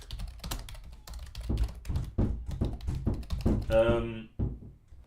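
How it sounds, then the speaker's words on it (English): Several dull knocks on a room door during a game developer's livestream, spread in an irregular series of taps and thuds, mixed with a voice speaking nearby. "What's this knocking on the door?"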